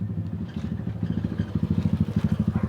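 A pressure washer motor runs steadily after being plugged in during a repair of its non-working pump, giving a close, rhythmic mechanical chugging pulse that grows more regular toward the end.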